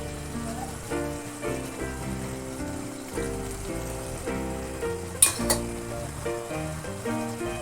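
A fried spice mix hits a pan of spiced jackfruit pickle curry, giving a soft, continuous sizzle with a few clinks of utensils, fairly quiet throughout.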